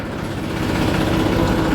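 A tractor engine runs steadily nearby with a dense, rumbling drone that swells slightly partway through, with no other sounds over it.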